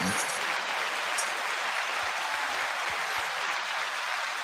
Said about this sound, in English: 9-second applause.